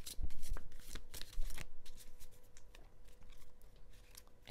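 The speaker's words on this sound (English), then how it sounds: "let's do a little shuffle-roo like this" Tarot cards being shuffled up close, a dense run of riffling and flicking with a few sharper snaps, no voices.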